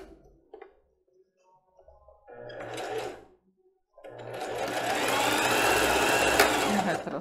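A sewing machine runs a straight finishing stitch on fabric for children's underwear: a couple of short stitching bursts, then a steady, close whirring run lasting several seconds.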